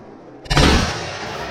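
A single loud, sharp rifle shot during a wild boar driven hunt cracks out after a quiet moment, followed by a long rolling echo that slowly fades.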